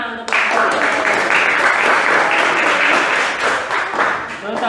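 A classroom of students claps for group presentations, with steady, fairly loud applause that starts abruptly and keeps going, thinning slightly toward the end.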